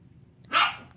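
A single short dog bark, bright and fairly close, rising out of a quiet room with faint background hum and no talking.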